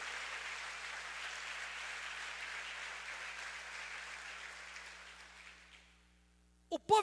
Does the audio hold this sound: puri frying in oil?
no